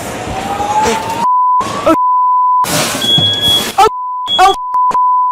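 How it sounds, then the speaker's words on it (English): A building fire alarm set off by cooking smoke beeps loudly in a steady, piercing tone, cutting in and out between bursts of louder commotion and voices. "she sets off the fire alarm in her building"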